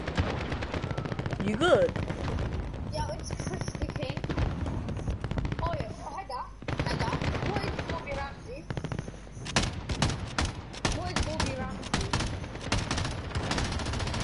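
Warzone battle royale gunfire, with repeated bursts of automatic weapon shots and scattered single cracks, loud and close, interleaved with brief spoken remarks and quieter gaps midway.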